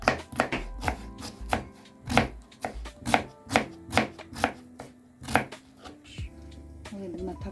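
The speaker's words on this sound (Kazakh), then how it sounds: "пиязымызды алып аламыз да, өте майдалап турап аламыз" An onion is chopped finely with a knife on a board: a steady run of about a dozen crisp, evenly spaced blade strikes, close and clear, ending with a softer scraping sound.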